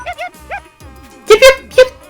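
A cartoon dog in Puyo Puyo Tetris lets out short yips and whimpering barks, a few spaced calls followed by a louder cluster of three, up close.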